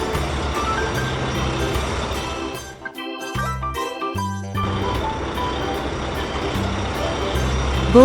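Truck reversing beeps ring out in a steady repeating pattern over a rumbling engine, with a brief lull midway and a bulldozer working nearby.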